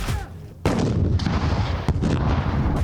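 A loud, sharp launch blast of an RPG grenade launcher fired at mock enemy positions during military training bursts out after a brief quiet, followed by a long rumbling echo and a second sharp crack.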